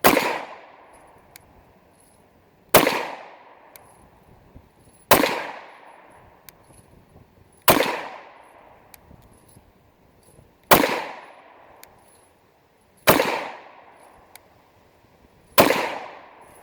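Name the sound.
Ruger 57 pistol being fired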